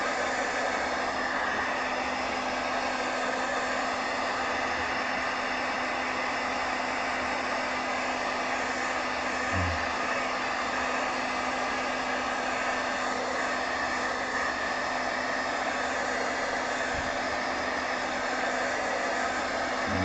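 An embossing heat tool blows hot air to dry paint on a painting, a loud, continuous whooshing roar with a steady hum running unbroken throughout, close to the microphone.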